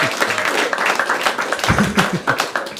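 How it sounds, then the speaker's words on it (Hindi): Stand-up comedy audience clapping, a busy crowd patter of hands with some sharper nearby claps, steady and fairly loud throughout, with no speech on top. "तालियां बजा दो इस पे प्लीज"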